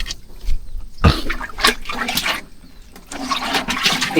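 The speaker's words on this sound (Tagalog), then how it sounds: "Lakas ng tubig, oh." Strong flow of water rushing along a concrete channel or floor, a loud continuous gush with surges and splashes, heard alone without speech.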